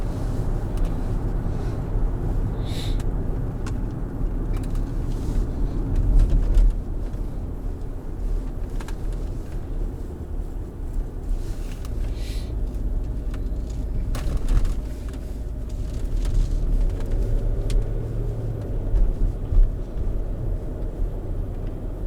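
Range Rover driving at speed on a rural road in France, a continuous low road and engine rumble with wind noise, rising and falling slightly, no talking.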